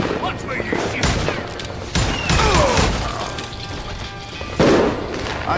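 Gunfire in the Western shooter game Call of Juarez Gunslinger, loud close bursts of repeated shots and crashing impacts in rapid, uneven volleys.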